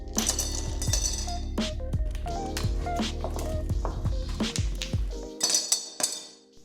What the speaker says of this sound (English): Next, I add some ice cubes into a glass.